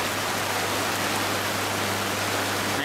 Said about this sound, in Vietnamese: Này mưa càng ngày càng lớn rồi đó